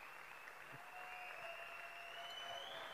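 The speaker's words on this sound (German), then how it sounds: "Also Sie können den Applaus jetzt noch ein bisschen größer hinter die Bühne schicken." Faint, steady applause fills the hall at a roofers' and plumbers' national championship award ceremony. It keeps an even, distant texture throughout, with a thin electronic tone running underneath.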